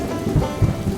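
A brief thunderstorm with rain and deep rolling thunder floods the village of Vrindavan in a telling of the Govardhan hill story. Two heavy low booms swell over a constant rainy wash.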